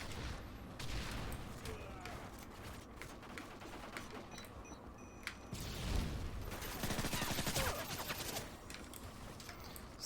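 Rapid MP5 submachine gun bursts from a Modern Warfare 3 multiplayer match, crackling in repeated volleys against busy game noise, with a voice talking over parts of it.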